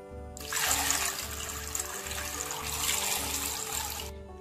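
Water pours in a steady, close stream over amla (Indian gooseberries) set to soak, running for about four seconds without pause and then stopping abruptly, with no talking.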